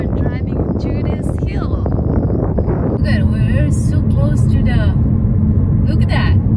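A car drives along an Oregon mountain road, its low steady engine and road rumble running throughout with wind buffeting the microphone, while people talk and exclaim over it.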